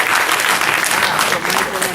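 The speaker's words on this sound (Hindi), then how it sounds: "let's have a big round of applause for him" An audience at a live event in Surat breaks into loud, continuous applause, dense clapping filling the whole stretch with no break.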